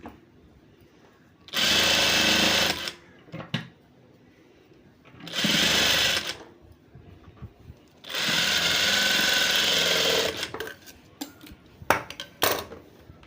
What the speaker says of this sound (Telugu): ఇప్పుడు దీనిపైన ఇంకో కుట్టు వేసుకోవాలి